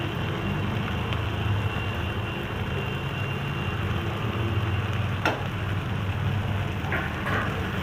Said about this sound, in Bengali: মটরশুঁটিটাকেও মশলার সঙ্গে একটু ভালো করে কষে নিই